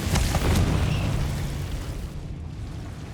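A Confringo spell blast in Hogwarts Legacy, a sudden loud booming explosion with a sharp crack at the start that rumbles and fades over a few seconds.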